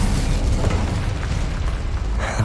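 Incendio fire spell cast in the Hogwarts Legacy video game, a loud, continuous booming burst of fiery rumble that holds steady for about two seconds.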